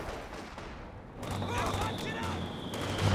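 Machine gun fire from an M1919 mounted on a captain unit in a Company of Heroes 2 2v2 battle, heard as dense rapid bursts within busy battlefield noise with other gunfire and speech-like chatter.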